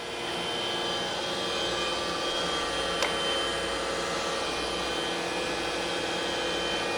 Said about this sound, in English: And we want to switch to internal and start that up. Well, that's your internal grinder.